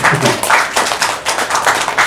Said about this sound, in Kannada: ದಯವಿಟ್ಟು ಒಂದು ಚಪ್ಪಾಳೆ ಅವರಿಗೆ.